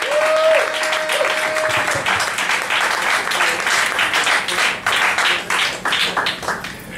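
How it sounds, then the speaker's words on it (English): Audience applause and scattered cheering at a comedy night at Cafe Diem in Richmond, 2010, many hands clapping in a lively, uneven patter after a brief tone at the start. "Give a round of applause to everybody."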